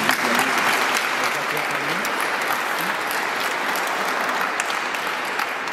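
Sustained applause from a congregation at a baptism celebration, a dense steady wash of clapping lasting throughout, with some voices faintly mixed in.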